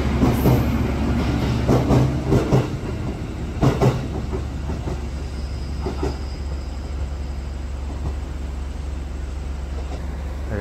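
JR Kyushu limited express Midori Relay Kamome rolls along, a loud interior rumble with rhythmic clickety-clack bursts of wheels over rail joints early on, then a steadier hum.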